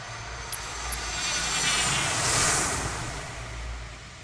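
Spaceship engine in free flight in the Star Citizen game, a steady broad synthetic roar that swells and fades, with two brief faint clicks near the start.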